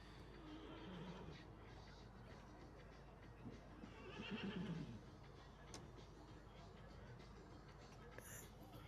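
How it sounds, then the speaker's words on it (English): A show-jumping horse at an equestrian championship class nickers and calls out to other horses, a faint whinny amid arena ambience while a commentator talks over it. "we've just heard him nickering and calling to his friends"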